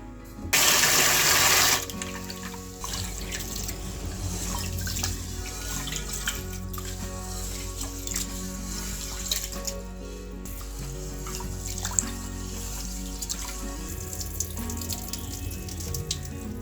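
Rice is washed under a running kitchen tap: a loud gush of water at first, then a steady stream into a sink, with faint splashes and clinks from the grains and vessel.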